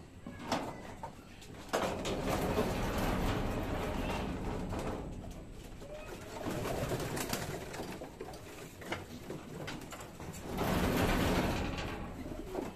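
Pigeons coo in a bird loft, soft repeated throaty calls rising and falling over steady background noise, fairly close, with no talking.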